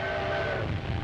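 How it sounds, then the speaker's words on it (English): A train rumbles and rattles steadily along the tracks, a continuous low clatter with a faint whistle-like tone above it. "The train rattles across desolate country the Italians will have to fight across."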